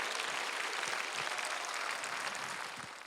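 A crowd claps together at an outdoor peace and reunification prayer rally in a plaza in Seoul, a broad steady wash of many hands that sounds somewhat distant and fairly faint.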